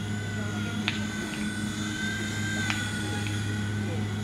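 A small Wltoys V911 RC helicopter flies nearby, its electric motor and rotor giving a steady, continuous high whine over a low hum, with a couple of brief clicks.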